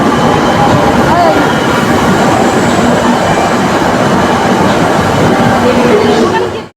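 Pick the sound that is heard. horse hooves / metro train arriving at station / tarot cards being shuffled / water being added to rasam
metro train arriving at station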